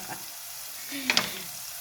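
Garlic frying in a pan as a chicken dish begins, a soft, even sizzle with a quick pair of bright spatula scrapes near the middle.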